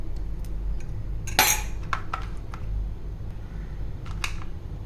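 Yogurt being spooned into a mixer jar for a fig and honey lassi, heard as a few sharp metallic clinks and scrapes of spoon against the jar over a steady low kitchen hum, with no talking.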